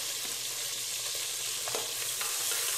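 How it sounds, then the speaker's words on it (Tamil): Onions sauté in hot oil with spices for tomato pulao. A steady, bright sizzle hisses throughout, with occasional soft stirring sounds underneath. "வெங்காயம் நல்லா வதங்கட்டும்."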